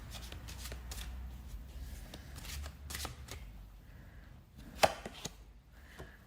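A deck of cards shuffled for a card reading, rapid riffling and ruffling bursts close to the mic, ending in a few sharp taps as the cards are squared, with no one speaking.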